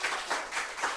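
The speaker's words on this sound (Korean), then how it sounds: "그것 때문에 박수 해보세요." Congregation clapping during a Korean church Wednesday service, a soft, fairly distant rhythmic clap repeating about four times in a second.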